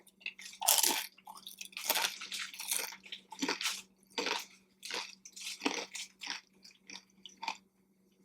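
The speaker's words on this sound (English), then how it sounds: "They are so crunchy." Crunchy in-house tortilla chips from Condados Tacos bitten and chewed up close, a series of sharp, brittle crunches in an uneven rhythm with brief pauses between bites and no talking.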